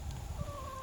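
A meat rooster on a farm makes a brief, soft clucking call, heard up close with no speech over it.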